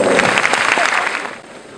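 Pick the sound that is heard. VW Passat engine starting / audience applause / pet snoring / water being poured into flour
audience applause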